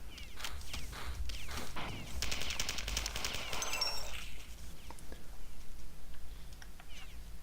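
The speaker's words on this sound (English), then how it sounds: "See those big pistols? Those are huge pistols." Rapid bursts of gunfire from oversized pistols in the Total Carnage arcade game, rattling volleys in the first half fading to quieter game sounds.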